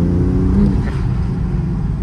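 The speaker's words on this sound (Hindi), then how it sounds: "सक्शन की पूरी पूरी आवाज आ रही है।" BMW M2 fitted with a carbon fiber intake, its engine giving a steady, loud, low rumble with a brief rising whir of intake suction, close to the car.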